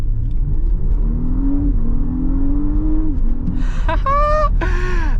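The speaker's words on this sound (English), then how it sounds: "That V6 kind of roars." A 2025 Audi SQ5's V6 engine revs and roars as the SUV accelerates, pitch climbing steadily over a constant low rumble, then higher whining tones near the end.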